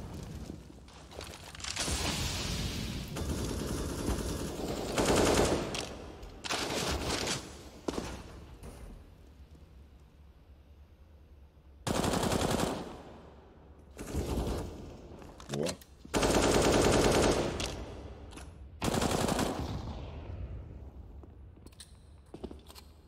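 Rapid bursts of gunfire in a Counter-Strike match at an esports event, repeated volleys separated by short quiet gaps, loud and close with a voice talking in between.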